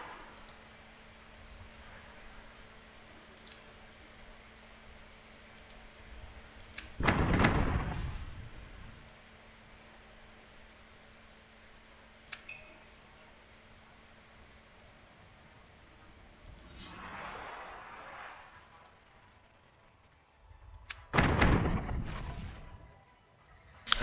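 Ship cannons firing in the pirate game Tortuga: A Pirate's Tale, three or four heavy booming blasts spaced several seconds apart over a low ambient hum, each loud and rumbling with a short decay.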